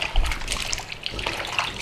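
Water trickles and patters as it drains off freshly rinsed potato chips, a short, steady wet dribble heard close up.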